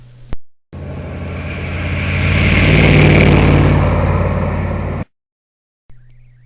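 A car speeding along a highway, its engine and road roar swelling loud as it passes close, then cutting off abruptly to silence; a short low hum sits before and after.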